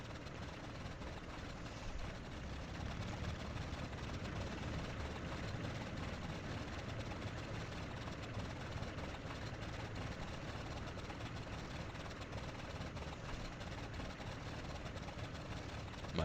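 Ju-52 trimotor engines rumble steadily as the aircraft taxis in the Il-2 flight simulator, a continuous low drone of idling propeller engines that holds even throughout.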